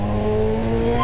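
Car engine in GTA San Andreas revving steadily with a sustained droning tone as it runs up through the gears, loud and alone with no talk.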